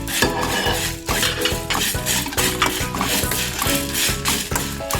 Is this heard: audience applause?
no